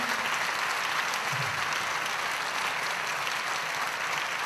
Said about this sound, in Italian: Alzatevi, raccogliete questo applauso del pubblico di Taormina.